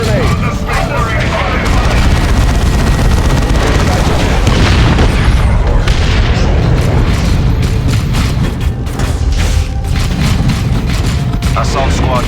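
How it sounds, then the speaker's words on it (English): A grenade blast in the sci-fi battle of Warhammer 40,000: Dawn of War II, heavy booms and dense gunfire continuing throughout at full loudness, with voices talking over the combat. "Use a grenade."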